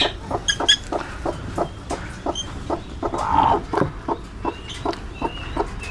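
A domestic hen, one kept brooding eggs for hatching, clucks close by in a steady series of short repeated clucks, with a few softer sounds in the background.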